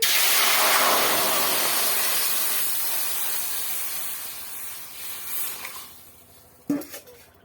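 Water poured into a hot wok at the start of cooking payesh, giving a loud, close, broad hiss and spray of steam that slowly fades over several seconds, followed by a brief clatter near the end.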